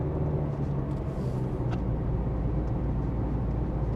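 A car's engine strains up the steep, rainy hills of Magoebaskloof Pass in South Africa, giving a constant low, heavy drone from inside the cabin with a steady rumble and no voices.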